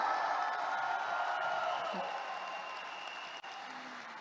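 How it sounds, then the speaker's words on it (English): Audience applause at a motivational gathering, a fairly faint, distant wash of clapping with some murmuring voices, slowly fading over about four seconds. "Can we all give ourselves a round of applause today"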